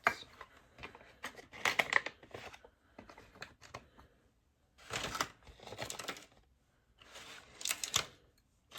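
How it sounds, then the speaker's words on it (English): A cheap Shein herb grinder being twisted and ground by hand, giving close, crisp scratchy bursts that come in several separate rounds with short quiet gaps between them. "we're just gonna use my cheap Shein grinder because I don't need it to be perfect"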